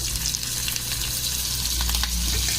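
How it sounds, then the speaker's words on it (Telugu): Green chillies and onions frying in hot oil for Rayalaseema chicken majjiga pulusu, a continuous close crackling sizzle with scattered pops and stirring clinks. "ఆయిల్ వేడెక్కిందండి. ఇప్పుడు పచ్చిమిరపకాయలు, ఉల్లిపాయలు వేద్దాం."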